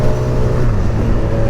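A fast, sub-$10k sport motorcycle accelerates hard at about half throttle while lifting into a wheelie, its engine a loud, steady, close droning roar for a brief moment.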